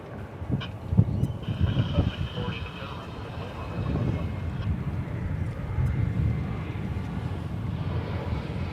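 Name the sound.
American Airlines Airbus A321 jet airplane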